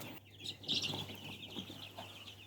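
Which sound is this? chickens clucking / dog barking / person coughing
chickens clucking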